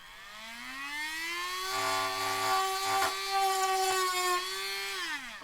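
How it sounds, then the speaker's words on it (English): A Dremel rotary tool whines up to a steady high-pitched drone, sanding a surface with occasional scraping bursts, then spins down at the end. "So Dremel is really helpful, like for sanding, especially situations like this."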